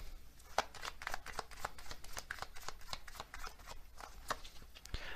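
Oracle cards are shuffled by hand close up, giving a quick run of crisp, papery riffling slaps and flicks with no talking.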